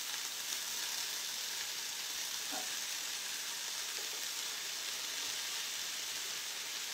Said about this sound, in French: Allez, on va y rajouter maintenant nos petits poireaux égouttés. Voilà. Et on va faire revenir nos poireaux.